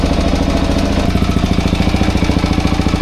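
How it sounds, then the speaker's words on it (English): A Suzuki DRZ400 motorcycle engine runs steadily after a valve adjustment, a close, even, rapid thumping idle with a regular pulse throughout and no talk. "Time for a test ride after adjusting the valves. Seems like it's running good."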